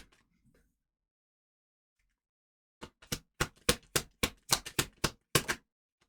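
Oracle cards are shuffled, a quick series of sharp riffling flicks after a near-silent start, close and fairly loud.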